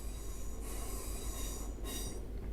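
In a train simulator game, a train runs on rails near Springs Branch Depot toward Wigan North Western, with a steady rumble and high wheel squeals rising twice over the running noise. No one speaks.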